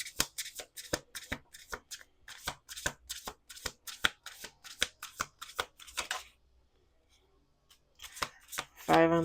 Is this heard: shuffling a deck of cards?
yes